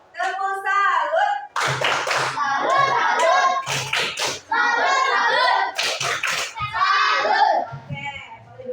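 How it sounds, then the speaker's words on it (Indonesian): A group of schoolchildren performs a rhythmic patterned clap cheer in a classroom, bursts of hand claps mixed with their chanting voices, loud and close, stopping and starting in short phrases. "Ayo 1, 2, 3. Tepuk salut."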